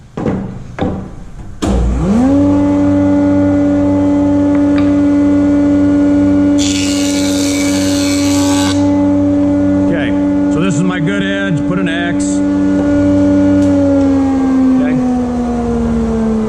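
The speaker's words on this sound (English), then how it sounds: "I'm going to go to the joiner. I'm going to join off an edge." A woodworking jointer planing the edge of a board for a drawer false front: the motor spins up into a steady humming whine, with a louder rushing cut partway through, close by.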